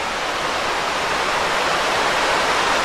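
Loyalsock River at Worlds End State Park, Pennsylvania, running high, rushes as a steady broadband roar of moving water, constant and fairly loud with no voices.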